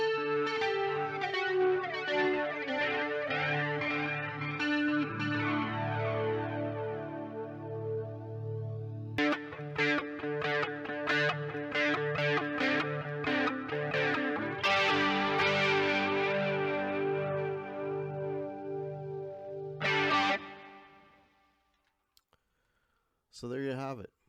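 Electric guitar played through a Line 6 HX Effects unit with chorus, delay and chamber reverb, strummed chords and ringing melodic lines with shimmering repeats, loud and continuous, ending in a fading tail and a couple of short final notes.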